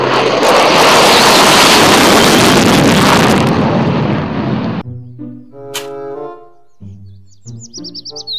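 A toy fighter jet gives a loud, steady roaring whoosh for several seconds, followed by a short electronic melody with chirpy tones.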